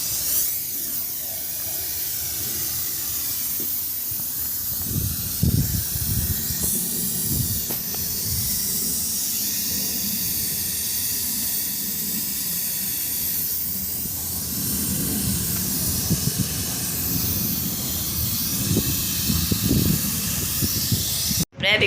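Aerosol insecticide spray hissing in long continuous bursts indoors in a village home on a rainy day, steady and loud with brief pauses and faint voices in the background.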